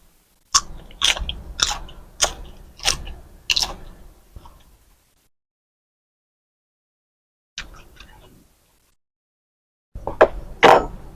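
Close crunchy bites and chewing of a spicy canned fish salad mixed with crisp vegetables, several rapid crunches in a burst, a pause of silence, then a few more loud chews.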